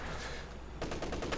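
MG-34 machine gun fire in the Company of Heroes 2 strategy game, a rapid burst of repeated shots starting partway through, fairly faint beneath ambient battle noise.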